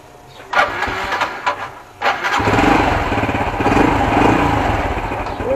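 A Honda Wave motorcycle engine, a 110 or 125 model with a newly fitted spark plug, sputters through a few uneven revs and then settles into a steady low idle that rumbles close by without stopping.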